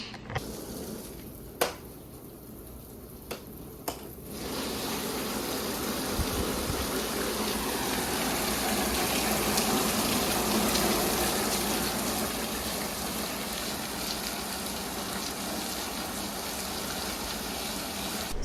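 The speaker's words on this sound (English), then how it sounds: "It is quite a rainy day. It's just like torrentially pouring out." Heavy torrential rain pours down steadily on a wet day in Maui, a dense, continuous wash of water that swells in after a few quieter seconds and keeps roaring close by with no voices.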